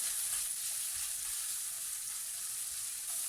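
A spoonful of tomato paste sizzles steadily in hot oil left from frying meatballs, a close, even hiss with no pauses.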